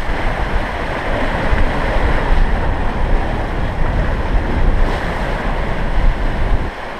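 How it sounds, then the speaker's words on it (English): Big fast ocean waves chasing a sailing catamaran at about 8 knots on a passage to Luperon: a continuous rushing roar of surf and breaking water close by, mixed with steady wind buffeting the microphone. "We're doing 8 knots right now and the waves are keeping up."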